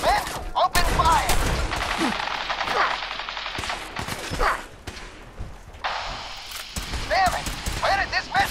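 Sustained automatic gunfire from several weapons in Fallout 4, rapid bursts rattling close and loud with thuds and whooshes, while voices shout over the shooting.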